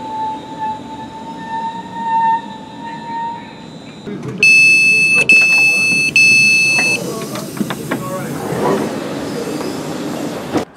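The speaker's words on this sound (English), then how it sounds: "I'm catching the 1342 West Midlands Railway service now to get back to Walsall" A West Midlands Railway passenger service rumbles along, the wheels squealing in high steady tones, with a sharper burst of screeching and clattering partway through, the rolling noise continuing throughout.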